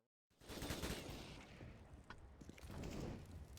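Dense rifle fire in a CS:GO esports match, rapid bursts of shots rolling together after a sudden start, loud and sustained with game ambience behind and no clear talking.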